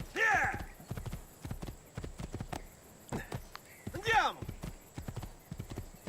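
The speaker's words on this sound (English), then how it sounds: "A white stallion." A white horse in Assassin's Creed 2 clip-clops steadily at close range, with two loud neighs, one at the start and one midway, and no talk over it.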